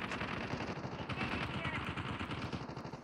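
Gunfire in the Call of Duty Mobile video game, rapid automatic bursts at low level under a player talking throughout.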